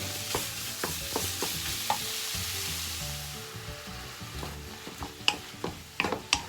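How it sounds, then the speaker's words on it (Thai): Pork stir-fried in a pan for a Thai jungle-curry chili dish sizzles steadily beneath repeated scraping and clacking strokes of a spatula, up close with no talking. "ผัดจนหมูมันสุกนะคะ ผัดให้หมูสุกนะคะพี่น้อง"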